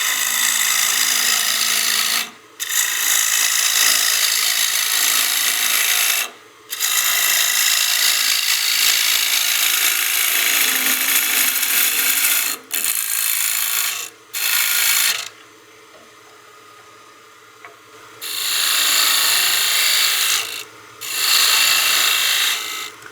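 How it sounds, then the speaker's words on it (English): A bull gouge roughs down a spinning wooden block on a lathe, producing a loud, continuous broadband scraping and rasping that runs in long passes, broken by several brief pauses as the tool lifts off, with a quieter stretch mid-clip. "I'm going to be using my bull gouge just to rough down some material"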